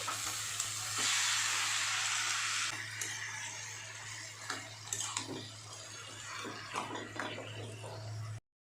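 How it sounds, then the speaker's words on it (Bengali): Soaked taro greens and chickpeas hit a hot wok and fry with a loud, crackling sizzle, followed by scraping stirs and clanks of a utensil against the pan, with no talking. "শাক আর ছোলাটা আমি আগে থেকে ভিজিয়ে রেখেছিলাম, তো সেটা আমি এখন দিয়ে দিলাম কড়াইতে"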